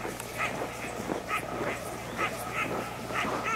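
Iditarod sled dogs resting in straw under blankets at about 27 below zero give repeated short whimpers and yips over a steady low background hum.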